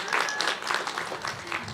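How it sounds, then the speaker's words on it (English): Audience clapping at a high school commencement ceremony, a steady spread of hand claps filling the hall, moderately loud and continuous throughout. "It's okay to clap."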